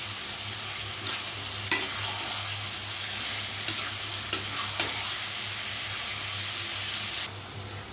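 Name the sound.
chicken meat stirred and frying with spices in pan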